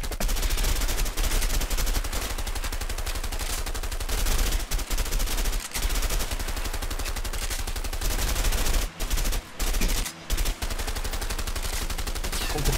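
Sustained automatic gunfire in the video game A Way Out, shooting up a house: dense, rapid, loud bursts that run almost continuously, with a few brief pauses between volleys.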